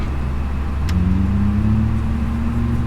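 Airbus A320neo engines in Microsoft Flight Simulator 2020, a steady low jet drone with tonal whines that shift in pitch as the throttles are pulled back, loud and continuous.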